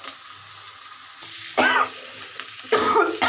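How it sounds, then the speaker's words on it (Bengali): Cauliflower pieces hitting hot oil seasoned with turmeric and salt, with two loud bursts of sizzling as batches go in over a quieter background crackle, close up, no talking. "এখন আমি ফুলকপিগুলি দিয়ে দিচ্ছি।"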